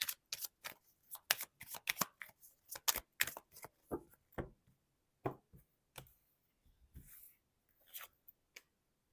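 Cards are shuffled close up with quick, crisp riffles and snaps, then laid down with a few scattered soft taps as they settle on the table.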